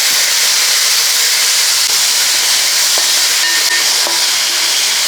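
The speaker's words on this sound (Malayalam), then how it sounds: "ഇനി ഈ രണ്ട് സവാള എണ്ണ ചൂടായ ശേഷം ഇതിൻ്റെ അകത്തോട്ട് ഇട്ട് കൊടുക്കുകയാണ്" Sliced onions fry in hot oil for a shrimp biryani, a steady, close, dense sizzling hiss running throughout with a few faint clicks, no voices.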